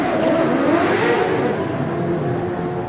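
Suzuki-engined 1-litre Formula Ford racing car at a British hillclimb championship event, accelerating hard off the start line, its engine note loud and steady, rising through a rapid revving sweep.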